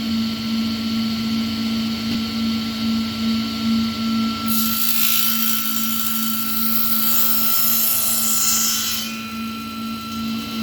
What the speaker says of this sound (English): Turn the saw on.